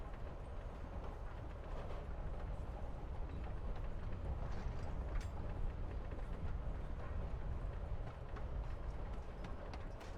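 Train riding sounds in the video game Life is Strange: Before the Storm: a steady low rumble with rattling texture runs unbroken throughout, moderately quiet.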